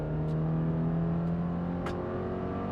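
A 2026 Subaru Forester Wilderness under full throttle, its engine holding a steady, droning hum with a rising tonal whine, heard from inside the cabin and continuous throughout.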